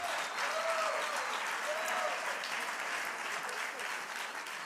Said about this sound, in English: with all due respect to the people who just applauded